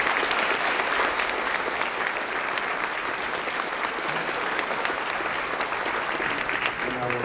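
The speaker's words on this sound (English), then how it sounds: "So give them a round of applause" At a school Veterans Day 2018 ceremony, an audience applauds two New York State Police troopers with loud, dense, continuous clapping that holds steady and has a few faint voices mixed in near the end.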